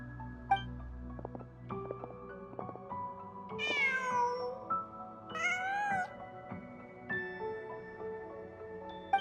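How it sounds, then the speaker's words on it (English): A cat in Genshin Impact meows several times, with a couple of drawn-out, fairly clear mews heard over quiet game music. "Huh. Just a cat."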